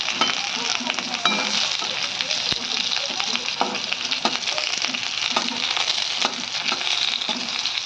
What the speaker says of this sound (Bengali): আলুটাকে অল্প ভেজে নেবো, একটু উল্টিয়ে পাল্টিয়ে